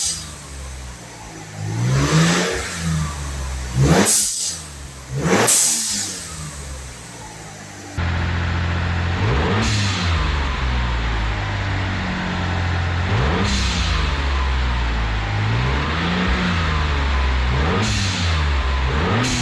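A 1997 Mitsubishi Galant VR4 with a newly installed GFB hybrid blow-off valve, revving loud and close in repeated rising and falling pulls, each ending with a sharp hiss of released air.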